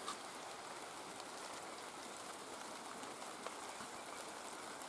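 Steady rain falls on a vegetable garden in a continuous, even hiss with faint patters of drops, with no voices.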